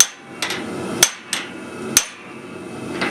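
Hammer blows at a forge drive a metal blank through a pipe to shape a sleigh bell: five sharp, ringing strikes at an uneven pace, close and clear, with no talk.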